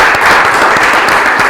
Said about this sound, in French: merci d'applaudir Nicolas Kazamala